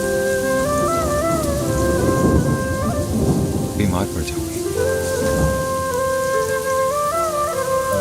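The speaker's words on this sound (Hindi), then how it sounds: "नजमा से कह देती इतनी तेज बारिश है" Heavy rain pours steadily with thunder rumbling through a domestic drama scene, while someone speaks over the downpour and soft background music plays.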